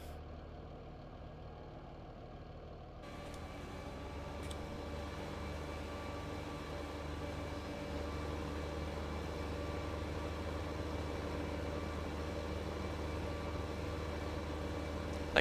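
A Case 160 tractor in Farming Simulator 15 idles in a low, steady engine drone, quiet and unbroken throughout, with a slight rise in level after the first few seconds.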